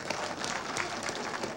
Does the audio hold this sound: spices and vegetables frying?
no